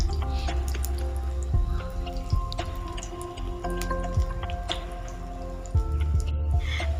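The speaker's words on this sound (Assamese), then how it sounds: "পেনত এনেকৈ তেলটো গৰম হ'বলৈ দিছোঁ আৰু এতিয়া লাহেকৈ মই বেচনত এনেকৈ বেঙেনাটো ডিপ কৰি পিনি দি দিলোঁ" Eggplant slices dipped in besan batter sizzle and crackle in hot oil in a pan, a dense, continuous frying hiss punctuated by sharp pops and spits, close and fairly loud.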